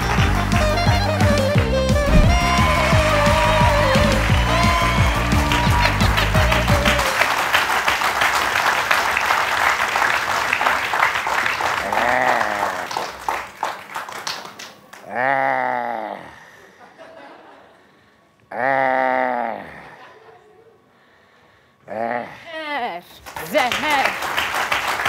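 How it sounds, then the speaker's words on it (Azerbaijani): An audience at a comedy stage show breaks into clapping after music fades, with scattered laughter and voices between bursts of applause. "Alqışlar."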